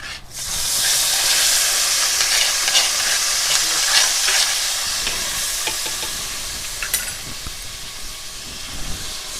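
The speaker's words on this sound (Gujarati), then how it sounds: "આ ડુંગળીને છે ને આપણે થોડીક તળાવા દેવાની છે." Chopped onion fries in hot oil after asafoetida goes in, a loud, steady hiss and sizzle with occasional stirring scrapes, cooked in a clay-lined pan outdoors.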